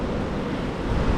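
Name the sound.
wind blowing at Baga beach, Goa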